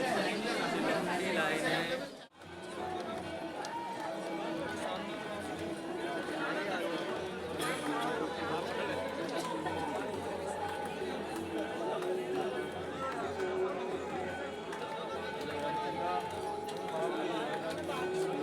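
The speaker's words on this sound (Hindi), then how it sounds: "बहुत भीड़ है, बहुत रश है" A large crowd of pilgrims waits in line on the Kedarnath trek, with steady dense chatter and murmuring voices filling the air throughout, close and continuous after a brief dip near the start.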